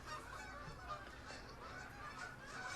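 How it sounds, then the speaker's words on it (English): Geese honking as they fly over, faint and distant, a few scattered calls over quiet background noise. "The geese are flying over."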